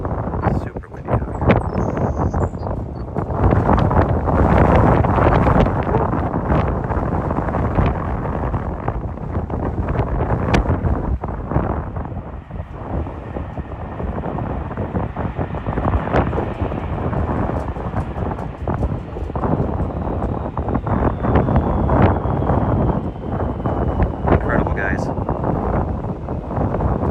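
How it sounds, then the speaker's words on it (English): Strong gusty wind roars across the microphone at an airport during plane spotting, loud and continuous, with a faint distant aircraft whine underneath and someone talking over it. "Super windy out here."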